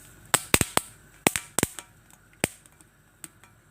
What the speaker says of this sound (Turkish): Tava kızgın olduğu için hemen patlamaya başladılar.